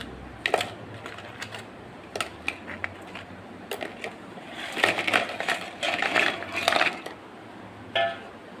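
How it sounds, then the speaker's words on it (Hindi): Crispy rice flour nachos clatter and rattle in a bowl, a dry crunchy shuffling in bursts that grows busier midway, with short pauses between shakes and no talking. "आप इसकी आवाज़ सुन सकते हैं कितने क्रिस्पी हैं ये,"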